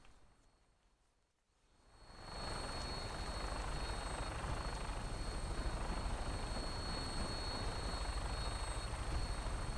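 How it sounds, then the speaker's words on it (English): A vertibird aircraft in Fallout 4 flies with a steady rotor roar that swells in after a brief quiet start and then holds loud and even, with no talking. "let's just go out and see the vertibird in action in third person"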